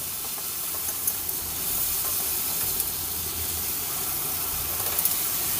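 Chopped tomatoes and a spoon of salt frying with ginger-garlic paste in a pan for a fish curry with pointed gourd and potato, giving a steady, even sizzle and hiss that holds close and alone throughout.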